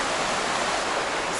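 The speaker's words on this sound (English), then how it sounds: "The water level on the creek has actually come down a little bit since the last filming." Creek water flowing steadily near a campground by a dam, a constant broadband rush with no breaks and no voices.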